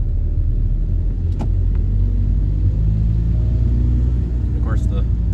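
A VW TDI diesel car pulling hard in fourth gear during a test run, its engine and road noise forming a loud, steady low drone throughout, with a few faint higher mechanical whines on top.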